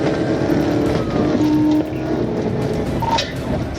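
A Dodge Challenger speeds through dense traffic in a police chase, its engine a loud, steady roar with shifting tones as it weaves, heard up close and without talking.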